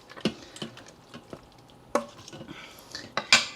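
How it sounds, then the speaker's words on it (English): A spoon stirring an andouille sausage casserole in a pot, scraping and clinking against the metal in irregular close strokes, with a faint sizzle underneath and no talk. "Give that a little stir."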